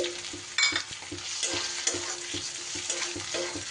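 Onions sizzle steadily in a hot pan while a utensil stirs and scrapes in irregular strokes, close and fairly quiet, with no talking.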